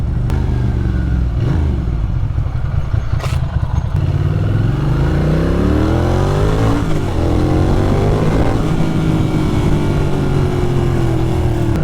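A loud Ducati Monster 620ie motorcycle engine (fuel-injected, 2003) idles roughly, then revs up and down in rising and falling sweeps, close and continuous.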